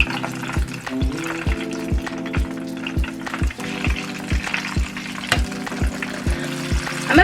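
Catfish pieces fry in hot oil for a Southern-style dish, giving a steady, close crackling sizzle broken by a regular series of soft low thumps, with no voices.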